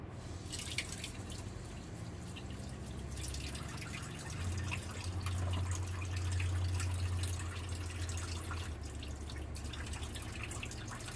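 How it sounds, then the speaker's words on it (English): Water running from a tap while hands are washed, a steady close rush with small splashes and a low hum that swells midway, continuous and without voices. "Alright, wash my hands."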